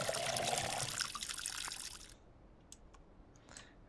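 Water pours and splashes steadily for about two seconds into a grow tent in the video game Schedule 1, then stops, leaving a few faint clicks and drips in a quiet room.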